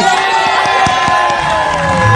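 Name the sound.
studio audience applause and cheering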